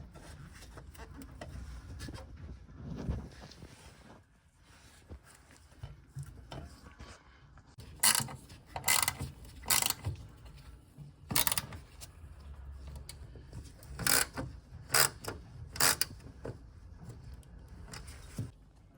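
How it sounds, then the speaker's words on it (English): A clamp is pushed down and secured over the flue on a Worcester 2000 boiler. A run of close, sharp metallic clicks and scrapes comes in bursts over quiet handling noise, with no speech. "just need to pop the clamp back down and secure it down."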